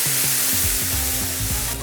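Smash burger patties sizzle loudly on a hot flat-top griddle as one is flipped with a spatula, a steady frying hiss with a few scraping clicks running through.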